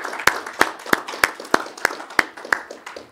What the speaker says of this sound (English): could we just give our wonderful colleagues a warm round of applause for the wonderful work that